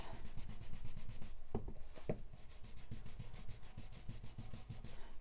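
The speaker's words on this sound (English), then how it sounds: "So just sponge all the way around the edge and it'll make that just pop." A sponge dabs ink around the edge of a stencil in quick, soft, rhythmic rubbing and patting strokes, close and continuous, with a couple of brief louder taps, and no talking.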